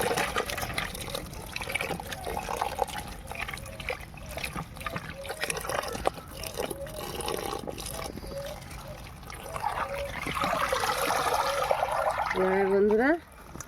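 A basin of cut young bottle gourd for a prawn curry is rinsed with water, with steady splashing and trickling through the clip, louder toward the end, where a brief voice is heard.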